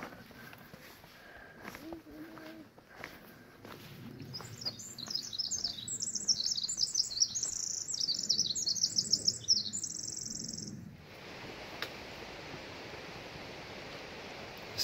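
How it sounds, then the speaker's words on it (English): A bird sings a rapid run of bright chirps and trills on a forested Glacier National Park backpacking trail near Cracker Lake, clear over soft rustling and footsteps, ending as a steady hiss of rain takes over. "What a pretty bird call."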